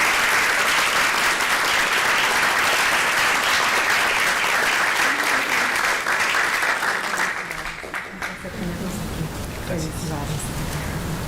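A school board meeting audience claps loudly and steadily for a congratulated student and her mother, the applause thinning toward the end as a voice begins speaking over it.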